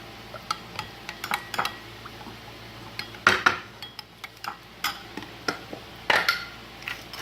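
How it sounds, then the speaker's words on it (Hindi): A spoon stirs a tablespoon of mustard sauce into a mixture in a small bowl, making quick repeated clinks and scrapes against the dish, near and fairly quiet, with no voices. "मस्टर्ड सॉस को हम 1 टेबलस्पून इसके साथ मिक्स कर देंगे।"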